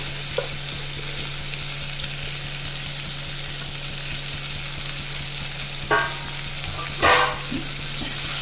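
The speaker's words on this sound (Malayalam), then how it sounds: "ഹൈ ഫ്ലെയിമിൽ വെച്ചിട്ട് വേണം ഇതൊക്കെ വാട്ടിയെടുക്കാൻ. അധികം വെന്ത് പോകാതെ ജസ്റ്റ് ഒന്ന് വാടിയെടുത്താൽ മതി. ക്യാബേജ് ഇട്ട് കൊടുത്തു." Cabbage fries on a high flame in a pan, giving a steady loud sizzle throughout with a few stirring clatters near the end, while a low hum runs underneath.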